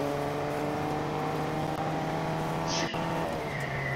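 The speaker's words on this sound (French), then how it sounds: "suis avec un camion, hein." Truck engine in the video game Fortnite, a steady droning motor hum with a faint voice underneath and a brief sharp click near the end.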